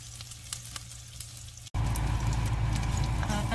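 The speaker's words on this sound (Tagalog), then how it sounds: "Gisa muna natin yung sibuyas" Onion sautéing in a pan, a steady close sizzle with light stirring patter that jumps abruptly louder and fuller partway through.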